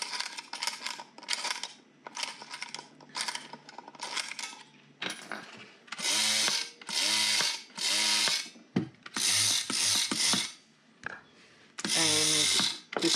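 A coat hanger wire automaton mechanism being wound up, giving repeated ratcheting clicks in short bursts, then louder, steadier mechanical whirring runs with brief pauses between them, close and alone.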